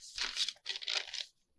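Dried tea-dyed paper crinkling in two short close bursts of crisp rustling, quiet and alone with a brief pause between them.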